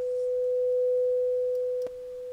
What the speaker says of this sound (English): And now I'm going to shift to the sine wave. And what I'm going to do is turn on the chorus effect